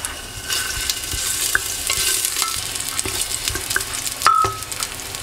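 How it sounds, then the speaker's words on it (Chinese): Ginger slices stir-fry in a little oil in a heated clay pot, sizzling steadily with crisp crackles and scraping stirs close by. "把姜片放进去炒香。"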